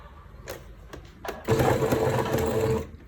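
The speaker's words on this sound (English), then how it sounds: "So I'll be sewing 1 cm seam allowance at 3 sides, on the right side, bottom and left side." A sewing machine runs steadily for about a second and a half, stitching a 1 cm seam allowance along the edge of fabric, after a few short clicks and starts. It is close and clear, with no talk.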